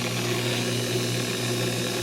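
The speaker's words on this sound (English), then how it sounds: "my electric drill is still turning" A continuous steady electric drill runs at constant speed for hours turning a radio's digital encoder, a smooth sustained whine with harmonic hum and no voices.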